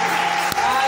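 Congregation applause during a church service, a brief wash of clapping under a steady sustained tone, with a short sharp knock midway and voices mixed in.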